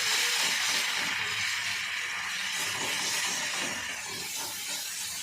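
Grated onion dropped into hot oil left over from frying fish sizzles with a steady, loud hiss throughout, without any talk.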